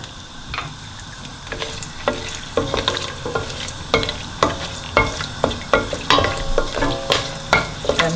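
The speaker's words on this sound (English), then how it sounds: "as soon as your ghee gets hot, I'm going to put all the garam masala first" Whole garam masala spices hitting hot ghee in a pan for coconut yellow rice, a steady sizzle under repeated clinks and scrapes of stirring, close and fairly loud, no talk.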